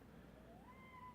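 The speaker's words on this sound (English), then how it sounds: "Sorry for the cat." A cat meows once in a drawn-out, rising call that sits faintly over a low, steady room hum, heard indoors during a TV LED strip repair.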